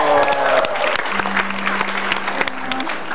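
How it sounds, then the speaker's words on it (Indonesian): A studio audience applauds a guest on an Indonesian TV talk show. The clapping is dense and loud at the start, then eases into lighter scattered claps under a low steady hum. "Beri tepuk tangan untuk Tina Tun"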